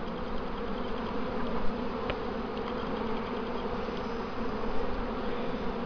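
Honey bees at a hive, a dense continuous buzzing hum from many insects close to the microphone, with the odd louder bee passing near; no voices.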